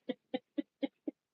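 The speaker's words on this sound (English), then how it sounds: "Birds out here chirping." Birds call outside in the evening: five short, evenly spaced low calls repeat at a steady pace. They are faint and distant, with silence between each note.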